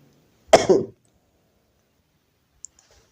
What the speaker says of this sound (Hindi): थोड़ा फ्रेंड्स बहुत खांसी आ रहा है इसको थोड़ा मैनेज करिएगा